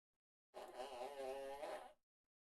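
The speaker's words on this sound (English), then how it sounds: "It made a defeated farting noise." A buzzy, flatulent electronic blurt lasting about a second and a half, loud and alone between stretches of silence, from a faulty homemade ESP32 modular synth module.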